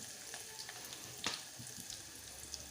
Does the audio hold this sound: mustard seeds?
yes